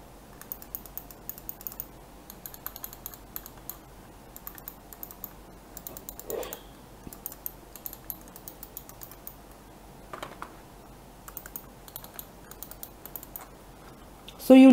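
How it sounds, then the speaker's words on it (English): Buttons on a Logitech M170 wireless mouse clicking in short, sharp, close taps, scattered singly and in small bursts against a quiet room background, with a louder knock right at the end. "So you listen the clicks."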